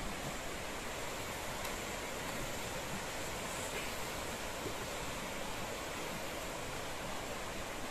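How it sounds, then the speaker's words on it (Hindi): Water from the Chingra Pagar waterfall in Gariaband rushes as a stream in a constant broadband wash, steady and fairly close, with no break and no voices. "अब ये पूरा पानी के धार बहावत आवत है।"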